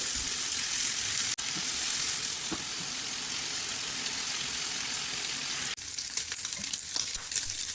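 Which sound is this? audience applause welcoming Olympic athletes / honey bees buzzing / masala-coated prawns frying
masala-coated prawns frying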